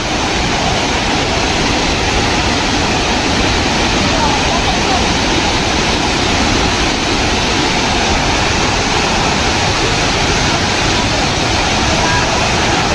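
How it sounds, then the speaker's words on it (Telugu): A roaring waterfall at Araku, with water sliding down from about 500 feet, gives a loud, steady rush of broadband noise that never lets up across the whole stretch. "ఒక 500 ఫీట్స్ నుంచి అయితే వాటర్ అనేది జారుతూ పడుతుందన్నమాట"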